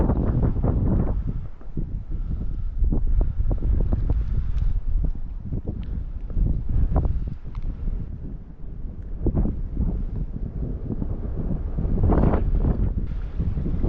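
Strong wind at the Barwon River entrance buffets the microphone in a steady, heavy roar, with gusty low rumbling throughout and no voices.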